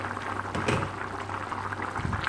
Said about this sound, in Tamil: நல்லா கொதி வந்துடுச்சு.